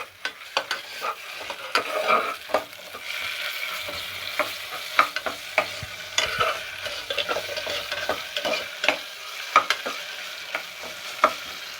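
Onions frying with ginger garlic paste in a pan for coriander biryani, a steady sizzle punctuated by frequent sharp clinks and scrapes of a ladle stirring against the metal, close and lively throughout.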